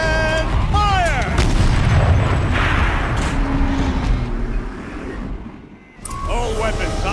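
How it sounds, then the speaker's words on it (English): Turret cannon fire in the action game Horizon Zero Dawn: heavy, loud booming blasts with rumbling low end, mixed with other game effects and a voice, then a brief drop before the noise resumes. "Rotate turret! And fire!"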